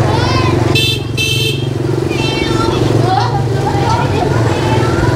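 A motorbike rumbles close by in busy Hanoi outskirts street traffic, its engine a steady drone, and a horn honks twice. Someone talks over the engine noise the whole time.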